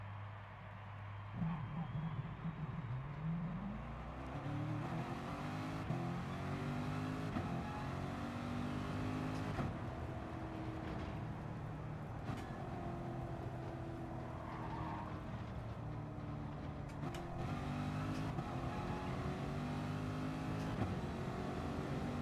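Race cars, including a McLaren, roar around an oval in Gran Turismo Sport, engines revving and shifting through a long steady drone with rising and falling pitch as the pack runs close together.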